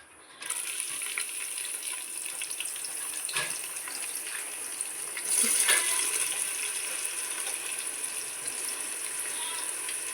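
Thinly sliced onions for biryani drop into hot oil in a pressure cooker, setting off a sudden bright, steady frying hiss that holds evenly, with a brief swell of sizzle midway and a faint clink.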